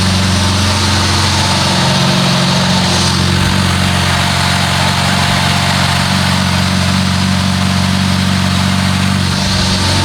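A BMW E36 idling steadily and loudly up close, a continuous even drone with a deep low rumble that stays constant throughout, no voices.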